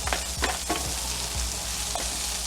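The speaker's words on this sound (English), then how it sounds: "Give it a couple minutes, you know, sauteing them." Mushrooms saute in canola oil in a pan, giving a steady close sizzle with soft scraping and stirring sounds.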